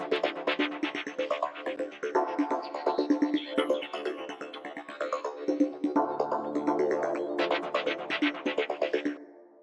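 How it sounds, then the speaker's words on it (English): Layered synths of a minimal house track in Ableton play together as a dense, steady electronic mix with a rhythmic pulse, close and loud, no voices. "we have a lot of synths going on here. All together, they sound like this."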